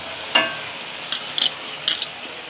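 Polao rice, vegetables and chicken fry in a pan, with a soft steady sizzle broken by a few short scraping stirs of the spoon close by, with no talk.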